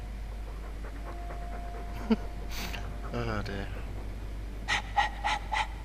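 A dog in the video game Dragon Age 2 pants in short, breathy bursts that come and go over a constant low hum, with spoken voices in between.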